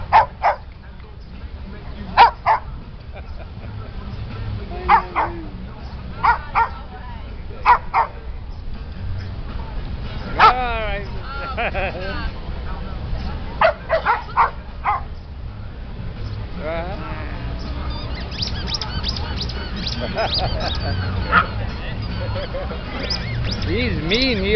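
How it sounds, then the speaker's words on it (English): Several dogs play in a dog run, with sharp barks and yips scattered through the stretch and some higher whimpering cries, fairly close, over a low background rumble, with a person talking at times. "I have dogs."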